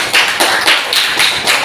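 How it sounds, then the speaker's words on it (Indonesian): A class claps for a student group during a lesson, with several strong bursts of hand claps in quick succession, loud and close, with no talk over them. "tepuk tangan dulu untuk kelompok 1"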